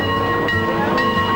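Mount Rainier Scenic Railroad tourist train rolling steadily, a loud continuous rumble with sustained tonal hum and steady mechanical rattle throughout.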